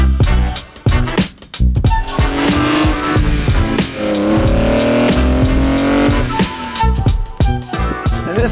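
A 2002 BMW E46 M3 drives hard, its engine loud and close while tires squeal in long drawn-out whines, with brief dips as the car shifts and turns.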